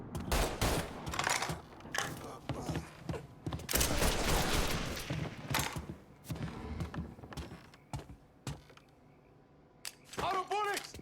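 Heavy gunfire in the Mafia III video game, dense volleys of rapid shots and single sharp cracks, loud and close, easing into sparser shots with shouting voices between bursts.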